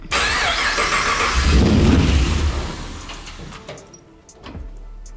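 Engine of a 1959 Chevy Apache pickup with newly installed custom wiring cranking loudly without catching, a grinding whir that fades into clicks and quieter rattles.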